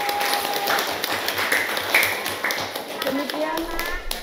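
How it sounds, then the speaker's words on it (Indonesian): A class claps steadily in a classroom after a student group presentation, a crowd of hands patting at a brisk rhythm with a few faint voices mixed in. "tepuk tangan untuk kelompok 1"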